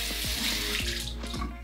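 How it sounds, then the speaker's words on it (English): A makeup sponge held under a running sink tap: a steady, close splash and rush of water with a few soft squishing pulses as it soaks through. "Soak it through and through in the sink,"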